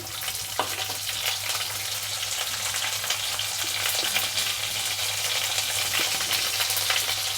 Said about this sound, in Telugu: కరివేపాకు కొద్దిగా ఉల్లిపాయ ముక్కలు వేగనిద్దాము